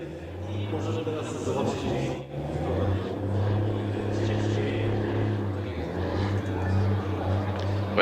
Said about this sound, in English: I'm going to hazard a guess here, Mike, and say that it's a drift truck